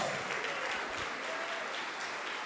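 A church congregation claps together in praise, giving a short burst of dense, steady applause that fills the room at moderate loudness.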